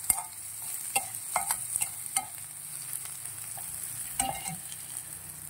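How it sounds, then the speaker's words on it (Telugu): Onions and green chillies fry in hot oil with salt and turmeric, a faint steady sizzle broken by sharp scrapes and clinks of a spoon stirring the pan. "కొంచెం సాల్ట్, కొంచెం పసుపు కూడా వేసుకొని కొంచెం ఆనియన్స్ ఫ్రై అయ్యేంత వరకు వేయించుకోవాలండి"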